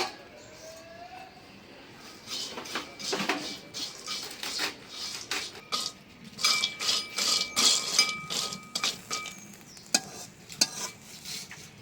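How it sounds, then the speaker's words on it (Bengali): Dried fish fries in a pan on a lit stove while being stirred, producing a low sizzle under repeated scraping and clinking strokes of a utensil against the metal, uneven in rhythm and close by, with no talking. "শুটকি মাছটা একটু ভাইজা নেই।"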